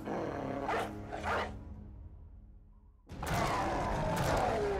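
Dogs in the video game Battle Brothers bark in a quick pair of sharp yelps, followed by a brief lull and then a loud burst of scraping, clashing battle noise.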